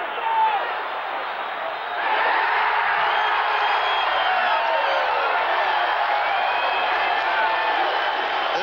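A football stadium crowd at a 1981 Chiefs at Raiders game roars and cheers in a continuous loud wash that swells after a couple of seconds and holds steady.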